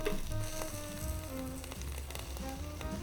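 Oats and pears cooking in an opened air fryer make a soft, steady crackling sizzle, faint but continuous, with small pops scattered through it.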